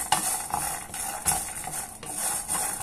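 Black pepper, cloves and cinnamon dry-roast in a pan while being stirred, giving repeated scraping and rattling bursts at a steady rhythm, close and fairly loud, with no talk.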